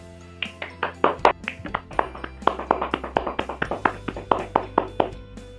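Sparse, uneven clapping from a small classroom audience for a student presenter, a couple dozen distinct close hand claps over several seconds.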